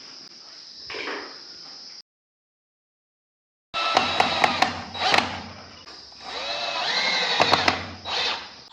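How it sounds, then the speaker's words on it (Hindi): A power drill with a 6 mm bit bores holes for an aluminium partition, giving close bursts of whirring and grinding with sharp clicks, separated by a short silent pause. "जो बिट लगाई जा रही है होल लगाने के लिए वो लगाई जा रही है एम्पर बिट 6 mm की बिट"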